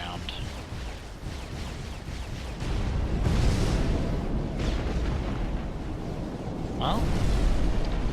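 In the Supreme Commander strategy game, a torpedo strike destroys a factory with a sustained rumbling roar of explosions that swells partway through, while someone talks over the blasts.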